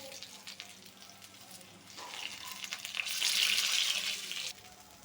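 Bread and potato tikki fry on a low flame in a pan, a soft steady sizzle that rises to a louder, denser hiss midway before easing back, with no talking.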